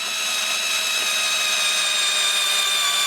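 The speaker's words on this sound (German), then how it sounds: "Jetzt können wir dann auch zusammenschrauben." A power tool whines steadily and loudly while parts of a wooden mill wheel are screwed together, a continuous high motor drone with no pauses.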